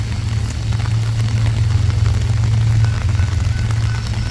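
A three-engine BNSF freight train approaches through a rail yard in the rain, a steady, loud low rumble of locomotives that swells slightly and holds without pause.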